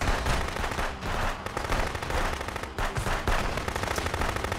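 Dense, continuous gunfire from the video game Contraband Police, with rapid automatic bursts filling the whole stretch, loud and close.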